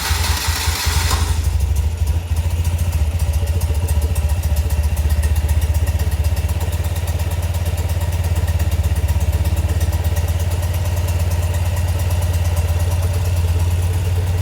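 A 1971 BMW R75/5 motorcycle engine is started with a brief crank, then settles into a loud, steady, rhythmic idle while still cold. It is heard close up with no talking.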